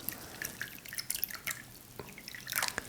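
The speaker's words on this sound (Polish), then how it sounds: "Teraz dodamy wody." Water is added to thick white paint from a separate cup, making scattered, close drips and small splashes that come in irregular bursts rather than a steady stream.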